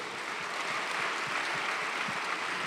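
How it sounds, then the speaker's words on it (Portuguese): Church congregation applauding the Lord during a sermon, a soft, steady wash of distant clapping with no voices. "Dá um aplauso ao Senhor."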